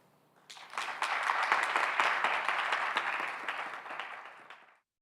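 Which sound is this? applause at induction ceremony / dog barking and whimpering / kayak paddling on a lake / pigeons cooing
applause at induction ceremony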